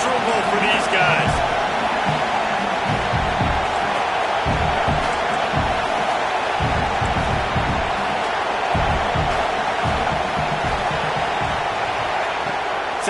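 Loud, steady roar of a big football stadium crowd at the Oregon game, a dense wash of noise with scattered thumps and shouts, while a broadcast commentator talks over it.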